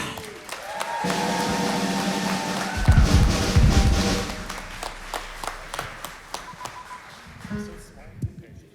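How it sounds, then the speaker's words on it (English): Audience applauding a performer taking the stage at a band showcase: a full burst of crowd clapping and cheering that swells, then thins into scattered claps, with talk over it. "can you please give an amazing round of applause"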